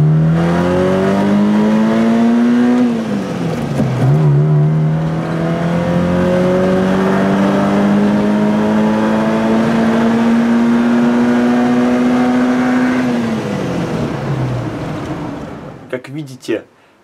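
A Moskvich car with a freshly rebuilt cylinder head accelerates hard during a test run, its engine revving loud and close through rising gear pulls with a brief dip at a shift, then easing off near the end.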